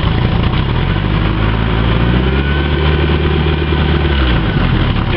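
A Bayliner Capri boat engine with a Cobra stern drive runs loud and close, holding a steady idle before a throttle blip lifts its pitch and then falls back, a continuous low rumble throughout.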